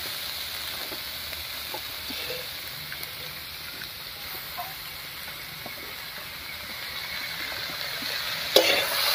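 Washed masoor dal tipped into a pan of frying onion and green chili, giving a steady close sizzle with soft stirring scrapes throughout and a sharper clatter near the end.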